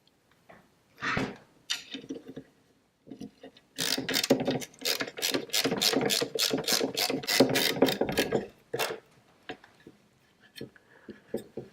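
Torx T25 bit driving M5 0.8 x 12 mm screws into a Midwest Industries extension for an FN SCAR, giving a close, steady run of rapid ratcheting clicks for several seconds after a few separate taps, with no talk.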